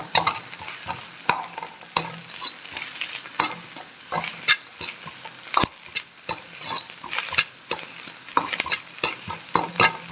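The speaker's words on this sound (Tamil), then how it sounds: "இஞ்சி பூண்டு கொஞ்சம் சேர்த்து அதையும் கொஞ்சம் நல்லா வதக்கி விடலாம்" Ginger and garlic sautéed on high flame for Tamil-style chicken rice, a loud continuous frying hiss with frequent sharp scraping ladle strokes against the pan, close and busy, with no voices.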